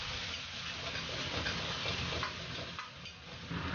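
Ginger, garlic and chili are stir-fried in oil in a wok, giving a steady close sizzle with light stirring scrapes and ticks and no speech.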